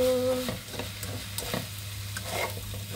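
Fried rice with egg, carrots and green peas being stirred in a hot pan, a close steady sizzle with scraping stir strokes, alone with no talk.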